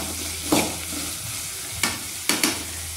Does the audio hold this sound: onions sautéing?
yes